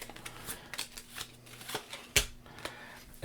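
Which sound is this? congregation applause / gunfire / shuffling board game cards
shuffling board game cards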